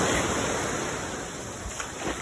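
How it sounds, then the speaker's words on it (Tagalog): Sea waves at a resort beach wash in as a dense, steady hiss of surf with some wind noise, loud and continuous throughout, with no talking. "i-appreciate nyo na lang yung dagat. Maganda naman yung dagat."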